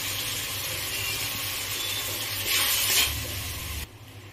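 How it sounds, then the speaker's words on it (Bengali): Spice paste of ginger, onion and garlic with Kashmiri chilli powder being stir-fried in oil, a steady close sizzle with scraping stirs that swells briefly near the end, then drops off abruptly. "মশলাটাকে কষাতে হবে, যাতে আদা পেঁয়াজ রসুন কাঁচা গন্ধ না থাকে"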